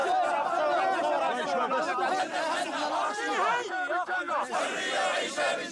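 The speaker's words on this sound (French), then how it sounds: "la foule est venue nombreuse honorer la dépouille de Fadi Qassem" A large crowd gathers in Syria for the funeral of a deserter soldier, voices rising in dense, continuous shouting and chanting, loud and close throughout with overlapping talk and cries.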